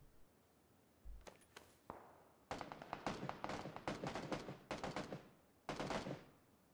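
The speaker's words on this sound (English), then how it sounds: "Lots of gunfire all around." Gunfire in the PUBG battle royale game, bursts of rapid shots and single cracks in clusters after a quiet start, loud and close with short pauses between volleys, no voice.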